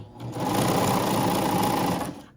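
A sewing machine stitches leggings fabric in one steady, close whirring run of about two seconds with a rapid needle chatter, starting and stopping cleanly, with no voice.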